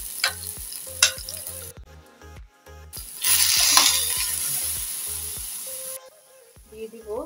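Grated beetroot drops into ghee in a frying pan and breaks into a loud, hissing sizzle. A rhythmic mechanical tapping and a gap come first, then the sizzle holds for a few seconds and cuts off.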